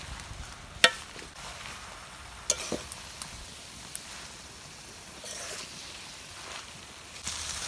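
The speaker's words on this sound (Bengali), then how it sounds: "মাছটা একটু কষাই নিব, নিয়ে পাতাগুলো মিলাই দিব" Surma fish being sautéed with peepal leaves in a pan, village-style, produces a faint, quiet sizzle broken by a few sharp clinks and scrapes of stirring.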